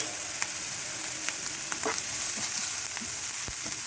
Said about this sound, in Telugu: ఇది కొంచెం వేగుతూ ఉండగా ఈ 1 స్పూన్ తీసుకున్నాను అల్లం వెల్లుల్లి పేస్ట్ వేసేయండి.